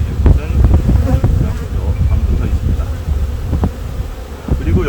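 Honeybees swarm around an open beehive during an acacia honey harvest, giving a loud, dense buzz heard close up that never stops, with small crackles and knocks mixed in.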